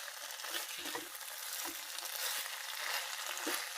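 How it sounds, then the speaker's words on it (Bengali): Water lily stems frying with grated coconut in a pan give a steady, broad sizzle with a few soft stirring knocks at scattered moments, with no talking. "নারকেল দিয়ে শাপলা ভাজা করে দেখবেন, টেস্টি হয়।"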